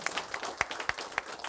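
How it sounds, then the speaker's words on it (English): Light, scattered clapping from a small group playing a board game, a few distinct sharp claps standing out over a thin, uneven patter. "We need some applause"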